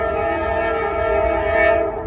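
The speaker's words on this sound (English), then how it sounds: "in the background, you can hear a train going by" A train rumbles steadily nearby, its horn sounding a sustained, loud tone throughout, swelling slightly toward the end.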